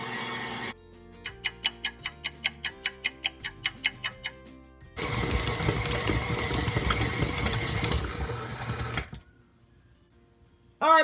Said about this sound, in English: we're going to let the dough mix for about 10 minutes